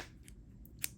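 A single quiet snip of scissors trimming yarn, close by, near the end of an otherwise hushed moment.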